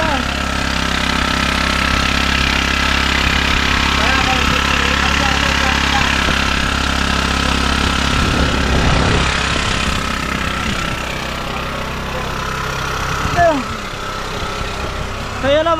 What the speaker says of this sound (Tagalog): yung makina kasi kinukondisyon na nila